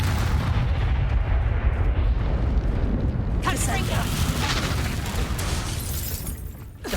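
Spell blasts in Hogwarts Legacy combat: a dense, continuous roar of booming explosions and crackling bursts, loud throughout, with a voice calling out over the chaos.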